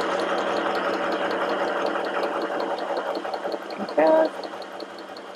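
A portable mini sewing machine, the FHSM 505, stitches fabric with a steady, fast mechanical whirr and ticking needle rhythm, running near and fairly quiet, with a brief louder clunk near the end and someone speaking a word over it.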